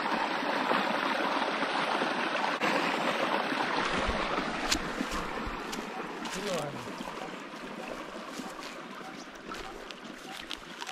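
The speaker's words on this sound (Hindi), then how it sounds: "इसमें जा रहा है पानी।" Water flowing through an irrigation canal fed by a running pump machine, a steady close rushing trickle throughout, with people talking over it.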